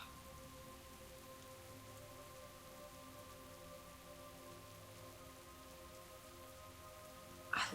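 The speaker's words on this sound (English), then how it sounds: "I love the sound of rain." Steady rainstorm in the World of Warcraft video game, a constant even hiss of rainfall filling the whole stretch with no talk, ending in a brief louder burst.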